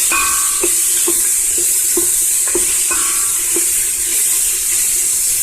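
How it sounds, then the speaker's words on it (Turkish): Onion and carrot sautéing together in a pan, a loud steady sizzle with regular scraping taps from stirring, close and without talk. "Bütün bu soğanı havucu birlikte kavurmaya başlayacağız."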